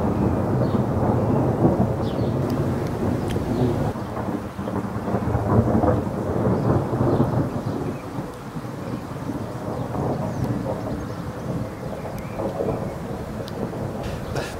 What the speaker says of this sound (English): Was trying to capture a few thunderstorms this week.